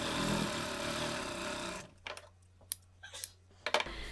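A sewing machine runs steadily while stitching a blouse, a loud continuous hum that stops partway, followed by a few scattered clicks and taps of handling at the table.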